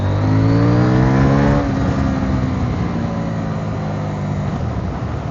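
A 2023 CFMoto 800NK motorcycle engine revs hard and close, climbing in pitch for about a second and a half before easing back to a steady, lower drone that holds to the end.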